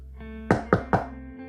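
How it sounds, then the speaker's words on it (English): Three firm knocks on a door land in a quick, even rhythm, close by and clear against a low, quiet background hum. "you knock on the door"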